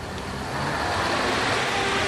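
Steady, broadband road rumble of a city bus pulling away, swelling slightly after the first half-second and holding as a continuous engine and traffic wash with no voices over it.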